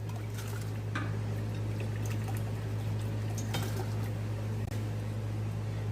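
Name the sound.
pouring apple cider vinegar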